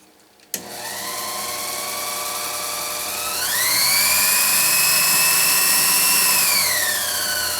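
A tiny Cameron drill press is switched on with a sharp click, its motor whirring steadily on the lowest step-pulley speed, then the pitch rises as a Dremel-style speed control turns it up and eases back down, close and loud.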